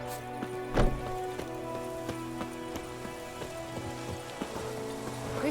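Pouring rain in The Witcher 3 falls as a steady, even wash of patter, with music or game tones sustained underneath and one brief louder knock near the start.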